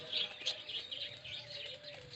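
Cockatiels chirp in a pet bird shop at Dhaka's Katabon market, a steady run of bright, overlapping tweets and calls filling the space at moderate volume, with faint background murmur.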